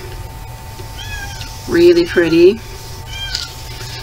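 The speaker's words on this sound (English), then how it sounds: "That's my cat" A house cat meows from outdoors, sounding unhappy: a couple of drawn-out, fairly loud meows near the middle, with a person briefly speaking softly over faint background hum.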